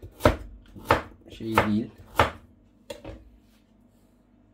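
A knife chops carrots into rings on a cutting board, five or six sharp, distinct strikes at a steady, unhurried pace, close and clear, with a brief spoken remark near the end.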